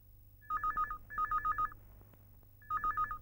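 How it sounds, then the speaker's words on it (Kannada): A telephone ringing nearby in three short, warbling electronic bursts with brief pauses between them and no talk. "ಸರ್, ರಿಂಗ್ ಆಗ್ತಾ ಇದೆ, ತಗೊಳ್ಳಿ."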